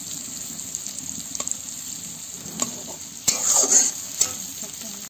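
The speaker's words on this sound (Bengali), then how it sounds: "এবারে একটি কড়াইতে পেঁয়াজগুলো ভেজে নেব।" Onions fry in a kadhai with a soft steady sizzle, broken by scraping stirs and a louder burst of spatula noise near the end. No voices.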